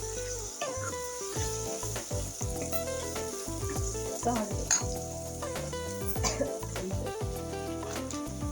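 Spices and ingredients for thotakura pesarapappu fry in a pan with a continuous sizzle and occasional utensil stirs, partly covered by background music.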